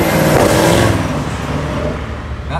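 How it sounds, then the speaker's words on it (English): A Shelby Speedster sports car drives past with its engine revving loudly, the roar strongest at first and then fading as it moves away, with no voices. "That right there is a Shelby Speedster."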